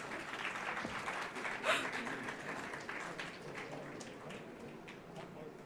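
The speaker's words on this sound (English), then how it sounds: "VC sir is signing and students are clapping" Students applauding as a Vice Chancellor signs an MOU at a university welcoming ceremony, a steady wash of clapping from a crowd lasting throughout with a brief louder swell near the start.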